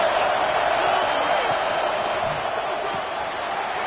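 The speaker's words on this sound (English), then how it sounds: "this crowd getting behind its defense" A football stadium crowd at a college game roars steadily for the home defense in the red zone, a dense, sustained wall of cheering and noise with no break.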